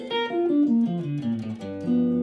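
Solid-body electric guitar picked with a plastic Jim Dunlop Primetone pick, a short jazzy phrase of clear single notes descending then settling, close and steady.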